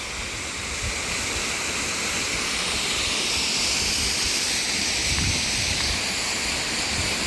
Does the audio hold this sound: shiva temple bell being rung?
no